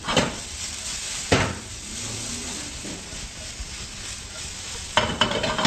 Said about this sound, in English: Slowly, slowly fry those.